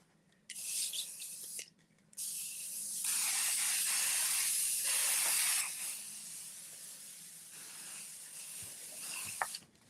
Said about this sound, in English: And you gotta pull it back so I can spray it.